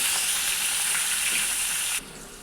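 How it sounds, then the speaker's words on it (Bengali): Radish, kohlrabi and carrot pieces fry in hot oil with a loud, dense, continuous sizzle that drops sharply in volume about two seconds in and continues more quietly. "এই সবজিটাও ভাজা হয়ে গেছে,"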